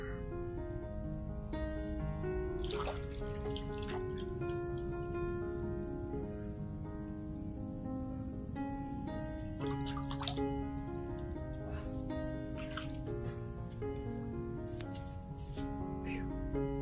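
Water from a well trickles and drips, with scattered light splashes over a steady high insect-like whine and low background hum, close and continuous.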